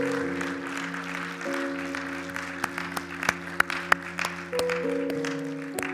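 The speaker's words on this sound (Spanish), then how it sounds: "¿Le puede dar un fuerte aplauso al Señor?" Church congregation applauding, steady clapping from a crowd with sharper individual claps standing out, over a sustained keyboard or organ chord that shifts partway through.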